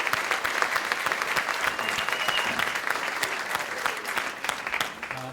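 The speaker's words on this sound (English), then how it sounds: "I want to give him a round of applause for doing that." A synagogue congregation at a Shabbat service claps for the song leader, a sustained burst of many hands clapping at moderate distance, even and continuous before dipping slightly at the close.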